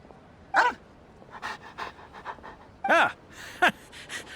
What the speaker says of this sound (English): What a well-behaved doggy.